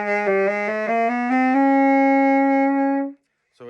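A saxophone plays a short passage of several quick notes that settles into a long held tone, growing from soft to moderately loud before cutting off, solo and up close.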